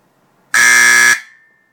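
Simplex 4050 fire alarm, its volume set low, giving a single brief piercing blast of about half a second, loud and close, with a short ringing tail afterward.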